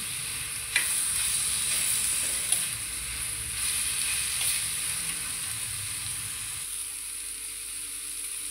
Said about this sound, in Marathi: टोमॅटो पण तळून घेते तसंच कांद्यासारखं. नरम पडेपर्यंत जरा खरपूस तळून घेते मी